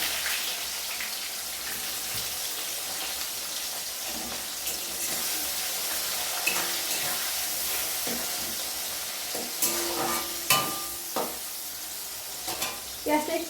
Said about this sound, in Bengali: পেঁয়াজটা একটু অল্প একটু ভাজা ভাজা হবে, তারপরে মাংসটা দেবো